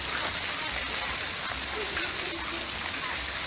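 A hailstorm pelts down in a dense, steady patter of hard impacts that runs without a break, a loud, wide wash of hits filling the whole stretch.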